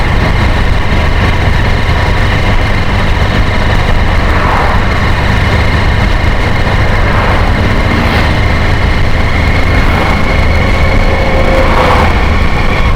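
Motorcycle tricycle engine running loud and steady while riding along a highway in Lopez, Quezon, a constant low drone with rising and falling hums as it cruises, close and uninterrupted.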